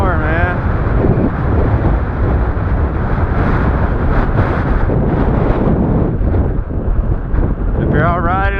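Strong gusty wind roars across the microphone while riding a modified Ecotric e-bike in Jacksonville, Florida, a loud continuous buffeting rumble throughout, with a voice briefly heard at the start and end.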